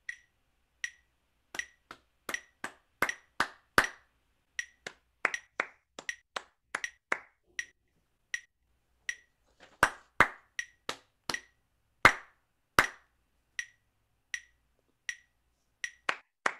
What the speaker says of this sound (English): I'm gonna clap a rhythm for like four beats